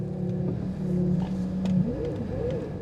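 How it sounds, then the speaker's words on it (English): A luxury car once used by French presidents idles steadily at close range, its engine a smooth, continuous low hum with a faint whir, no voices over it. "The engine sounds sweet though."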